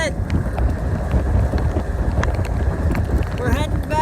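Strong gusts of wind buffet the microphone in a low, constant roar on a cold, rainy fishing trip in Canada, with a faint voice briefly audible near the end.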